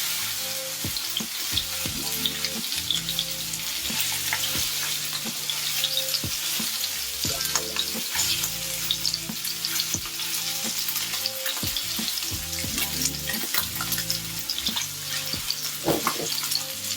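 Steelhead trout fillet frying skin-side down in a pan, a steady close sizzle and crackle with intermittent scraping and stirring clatter throughout.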